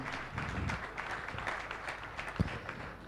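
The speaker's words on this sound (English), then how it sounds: "A big round of applause for him," Faint applause from a crowd at a national summit panel discussion in India, steady scattered clapping at a low level with a brief thump partway through.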